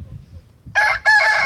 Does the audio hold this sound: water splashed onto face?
no